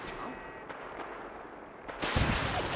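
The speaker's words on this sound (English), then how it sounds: "they got rocket launchers" Rocket launcher fire in Fallout 4 gameplay: faint thuds and scattered impacts, then a loud, broad blast near the end that rolls on noisily.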